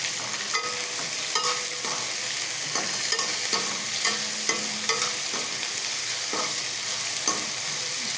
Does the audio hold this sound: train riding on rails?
no